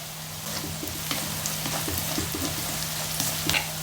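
Chopped onion browned to pink in an iron kadai, with a pinch of turmeric just added, sizzles steadily and close up in hot oil, with small pops and stirring scrapes and no talking.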